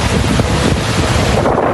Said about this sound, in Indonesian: terjangan angin kencang menciptakan gelombang tinggi yang mengguncang deretan perahu di sepanjang pesisir